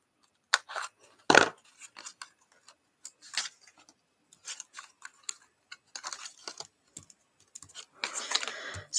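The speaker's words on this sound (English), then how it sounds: "I'm just going to take my scissors and just cut" Scissors cut through paper for a holiday bauble card in a series of short, crisp snips and rustles, irregular and close, with brief quiet gaps between cuts and no talking.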